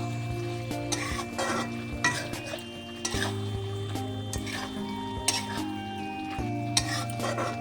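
Paneer masala with ground cumin, turmeric, chilli and salt being sautéed in a pan, heard as repeated spatula scrapes and clinks over a low sizzle, close and steady, with a constant hum underneath and no speech.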